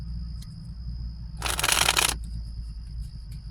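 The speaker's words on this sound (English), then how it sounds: "Allow me to shuffle." A short burst of tarot cards being shuffled, a crisp riffling flutter lasting under a second amid quiet room hiss and faint clicks.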